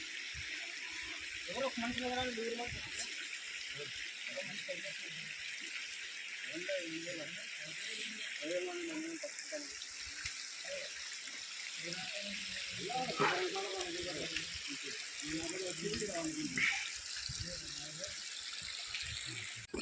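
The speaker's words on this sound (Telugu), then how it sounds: "చూడండి నీళ్ళు ఎలా పారుతున్నాయో." Water rushes in a steady broadband wash, a forest stream heard close at Bhimuni Kolanu, with a person talking intermittently over it.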